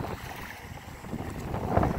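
Steady wind buffeting the microphone at Makaha Beach on Oahu, a low rumble and hiss swelling toward the end, with faint Pacific surf in the background.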